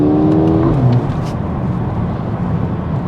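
Hot hatch with standard exhaust, a BMW M135i or Mercedes A35 AMG, revving briefly before the engine note drops away into a broad roar of road and cabin noise.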